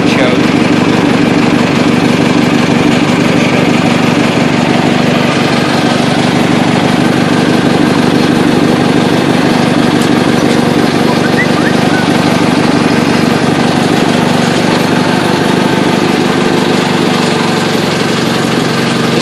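Cub Cadet 582 lawn tractor engine idling after a cold start in cool weather, a loud, steady, rumbling drone with a fine rapid pulse, continuous throughout.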